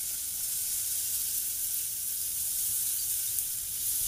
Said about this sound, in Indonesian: Kalau minyaknya udah panas, kita masukkan bawang dan cabai yang udah kita chopper tadi. Tumis sampai harum.